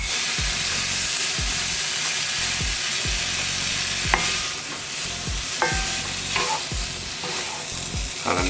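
Broccoli fries in melted butter in a pan with a constant loud sizzle. Sharp scrapes and knocks from stirring land at a steady rhythm, and no one speaks.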